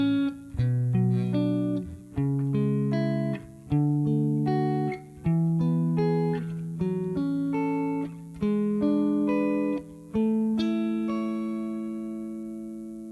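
Guitar plays a sequence of diatonic open-voice (spread) triads, each chord struck and left to ring for about a second before the next, clean and moderately loud with no talk.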